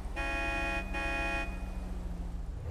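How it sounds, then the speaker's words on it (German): Car horn honked in a video game: two long steady blasts in quick succession over a low engine hum, then the hum continues alone. "Wenn ich hupe, hörst du das?"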